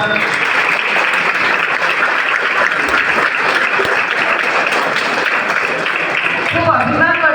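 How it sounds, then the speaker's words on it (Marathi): Audience applause at a Marathi public felicitation event, loud sustained clapping from a large crowd filling the whole stretch, with a few voices rising near the end. "सर्वप्रथम स्वतःसाठी एकदा जोरदार टाळ्या वाजवा."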